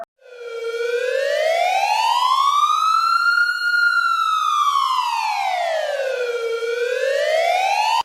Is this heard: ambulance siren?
yes